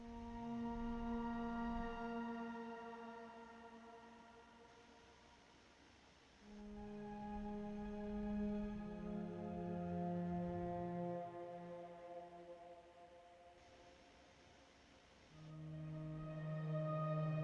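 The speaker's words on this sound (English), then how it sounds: "Next, we had this pad that I kind of used as noise throughout" A sustained ambient synth pad made in FL Studio for a chill CSGO surf beat, holding long descending chords that swell and fade across bar-long notes, alone and fairly quiet.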